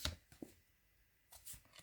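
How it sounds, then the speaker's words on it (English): Short, quiet card-on-card rustles come in small bursts from an overhand shuffle of a tarot deck, up close with pauses between the strokes and no voices. "It's a bit unusual, but it shuffles, especially if you're an overhand shuffler like me."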